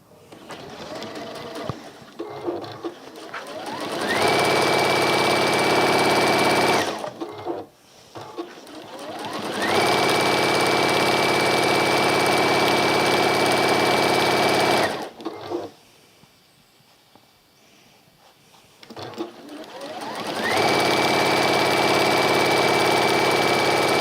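A sewing machine stitches a seam through outer fabric and lining for a contrast caddy, running in three long, steady whirring bursts separated by short pauses with faint handling noise.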